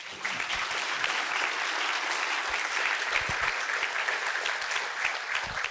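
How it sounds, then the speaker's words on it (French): Conference audience applauding a history lecturer, a full steady wave of clapping from many hands, loud and continuous from start to finish. "et nous allons l'applaudir."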